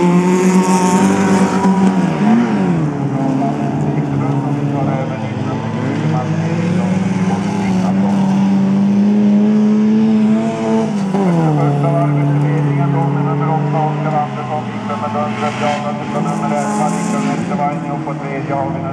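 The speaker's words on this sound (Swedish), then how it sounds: "Och det är Oskar Andersson som tar ledningen, bil nummer 8" Race cars in the New Boliden Race lap a track with loud, continuous engine roar that rises and falls as they shift and pass, heard close and unbroken for the full length.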